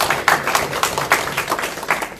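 An audience at a Korean book talk on Chokseongnu claps to thank attendees who kept historical materials. The clapping is moderate and uneven, with loose individual claps repeating over a couple of seconds.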